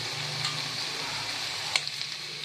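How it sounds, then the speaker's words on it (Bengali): Fish lightly frying in a pan gives a steady, close sizzle with a couple of brief ticks and stirring clicks, no one talking. "মাছটাকে কোনো রকম হালকা আমি ভেজে এখন আমি এটা দিয়ে দেবো"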